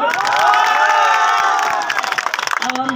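A rally crowd cheers and shouts loudly and steadily, with applause mixed in, before the noise breaks into scattered claps and a few voices as it dies down.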